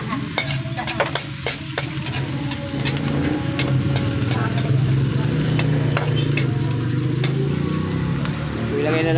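Garlic sizzles loudly in hot oil in a frying pan for adobo, a dense continuous crackle with scattered sharp pops and stirring scrapes, under faint talk.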